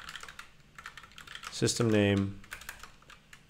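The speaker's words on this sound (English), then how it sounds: "sometimes I really struggle typing on this keyboard. It's a new keyboard." Rapid clatter of typing on a new computer keyboard, close and steady, with a brief spoken phrase in the middle.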